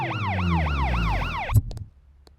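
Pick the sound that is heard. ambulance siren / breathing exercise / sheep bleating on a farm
ambulance siren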